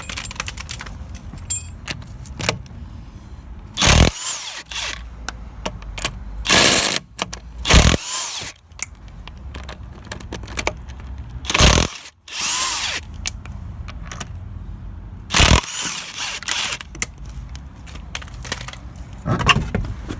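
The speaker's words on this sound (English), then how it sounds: "if you're going to use an impact gun before you try and whiz that off" An impact gun works the locking wheel nut on a 6th-generation Mitsubishi Lancer, firing in loud, short rattling bursts spread across the stretch, with quiet clinks and handling noises of tools between them.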